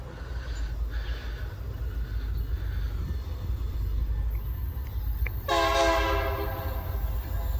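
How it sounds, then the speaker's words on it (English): A train with four engines rumbles closer as a steady low roar builds, then its horn sounds loud and sustained for the last couple of seconds. "we are recording a train who's coming up on us"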